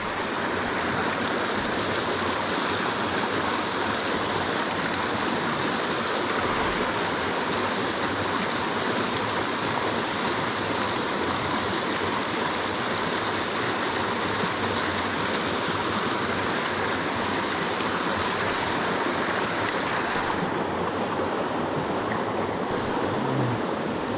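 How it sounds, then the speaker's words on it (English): River water streams and rushes steadily and close by, a continuous broadband wash filling the whole clip with no one talking, the level holding constant throughout. "I'm sorry you guys can hear the water."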